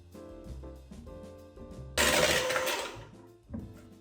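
Peanut butter being mixed with granulated and brown sugar for peanut butter blossom cookies, heard as a mechanical whirring hum that surges into a loud, rough churning burst midway before settling back.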